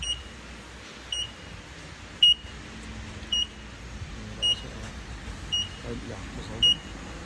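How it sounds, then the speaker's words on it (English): A high electronic beep from a Red Ant smart spreader control box repeats about every second, steady and evenly spaced, over a low rumbling engine hum. "you switch the box on, you're going to hear the beeping"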